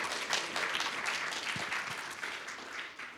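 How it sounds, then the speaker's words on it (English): An audience at an evening awards ceremony gives a sustained round of applause, a dense, even wash of many hands clapping at moderate distance with no pauses. "Let's give a round of applause for yourselves for being here."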